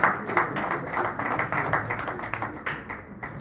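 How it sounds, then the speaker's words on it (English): An audience at an annual business luncheon claps to welcome a panelist, a dense, fairly close patter of many hands that holds steady and then thins slightly toward the end. "Please, with a round of applause, let's welcome him."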